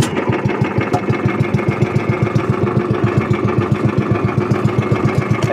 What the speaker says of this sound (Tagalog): Yan, testing natin yung bangka.